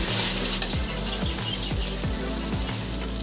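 Mutton fat, kidney and liver sizzle in hot oil, a loud steady crackle running throughout with low thumping stir or clatter sounds recurring at regular intervals.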